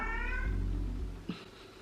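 A house cat gives one clear, drawn-out meow, close and fairly loud, followed by a quieter short sound and then near silence.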